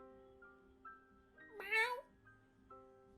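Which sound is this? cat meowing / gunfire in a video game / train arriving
cat meowing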